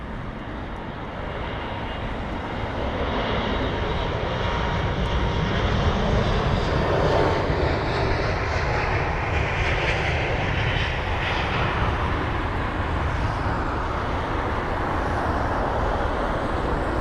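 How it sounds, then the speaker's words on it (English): A Lufthansa Airbus A320neo on its takeoff roll at London Heathrow, bound for Frankfurt: a loud, steady jet engine roar that swells and holds across the whole stretch, with faint road traffic beneath. "you've got the Lufthansa 320 Neo registered at Delta Alpha India November Foxtrot off to Frankfurt it goes"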